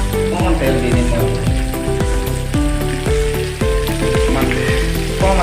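Oil sizzles and crackles steadily in a pan while cooking egg gravy, a continuous frying hiss heard alongside rhythmic tonal background music.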